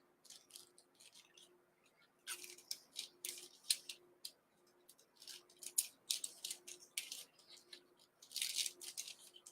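Scissors snipping a strip of gold foil, a series of quiet, close, crisp cuts in irregular bursts with short pauses between them, no voices.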